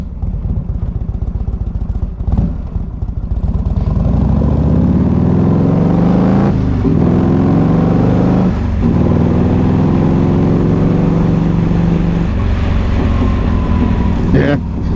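A motorcycle engine runs steadily and loud up close, its pitch rising and falling in smooth revs, with a couple of brief clunks along the way.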